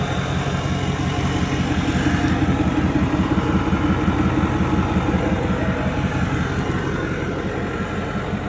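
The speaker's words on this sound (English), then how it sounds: "The exhaust is nice and quiet for a deleted and tuned truck." A tuned 2008 Ford F-250 6.4 Powerstroke diesel pickup with deleted emissions idles close by, its exhaust giving a steady low rumble with a rapid, even pulsing throb and no one speaking.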